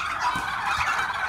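Turkeys gobbling at a turkey farm in Kudus, a continuous clamour of overlapping calls from several birds at moderate distance, steady and without talk.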